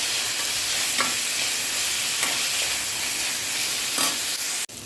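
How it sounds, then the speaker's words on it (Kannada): Dried prawns fry in a pan with a loud, steady, close hiss of sizzling oil, a few soft stirring scrapes rising above it before a sudden brief drop near the end. "ಇದು ಚೆನ್ನಾಗಿ ಫ್ರೈ ಆಗಲಿದೆ"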